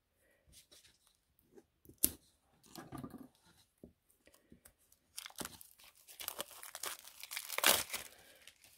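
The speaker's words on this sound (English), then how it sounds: "all I do is open the packaging" Ink pad packaging being opened, with crinkling and tearing plastic in bursts of rustle, a sharp crackle near the start and a louder stretch of crinkling toward the end, close and alone.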